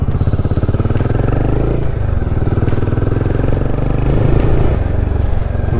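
Royal Enfield Himalayan 450 motorcycle ridden along a mountain road between Jibhi and Kasol, its engine thrumming loud and steady throughout with a rhythmic pulsing exhaust note and no voices.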